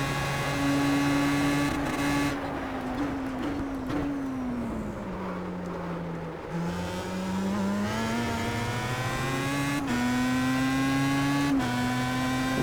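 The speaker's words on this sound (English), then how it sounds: "Letting a little rotary ping against 5th gear there before the hairpin." Star Mazda open-wheel race car with a rotary engine, driven in the iRacing sim at Homestead, buzzes loudly in high gear, pitch sagging as it lifts off and then climbing again through upshifts; no voices.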